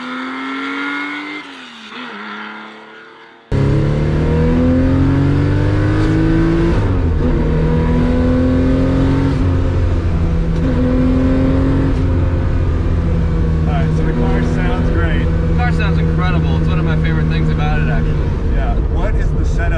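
Rebuilt 1972 Porsche 911 ST-spec hotrod with a twin-plug engine and sport exhaust, revving loud and close, starting softly then bursting into a sustained, rising and falling roar that holds for over fifteen seconds.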